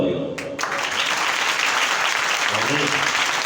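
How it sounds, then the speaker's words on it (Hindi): Loud, sustained congregational applause in a church swells after a brief pause at the start and continues densely throughout, with some voices mixed in. "जोरदार तालियां।"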